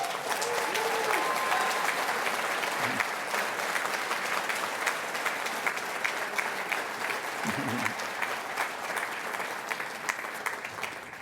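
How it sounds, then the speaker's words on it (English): Sustained applause from an audience at an evening awards ceremony, many hands clapping steadily and evenly for the whole stretch, with a couple of brief low thumps or voices showing through. "All right, now you can clap for all of them."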